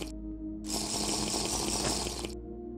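Water in Minecraft, a steady rushing flow like a running tap that swells up for about two seconds over a low constant hum.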